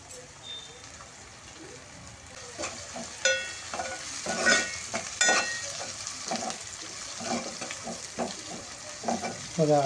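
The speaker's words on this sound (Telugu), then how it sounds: "అల్లం వెల్లుల్లి పచ్చివాసన పోయేంత వరకు వేగనివ్వండి" Ginger garlic paste sizzles and fries in a pan for chicken curry, soft crackling under intermittent sharp stirring scrapes and clinks, with a quiet voice now and then.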